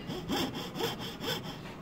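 A shortened hand saw cuts wood in steady back-and-forth strokes, about four rasping passes, close and clear with no speech.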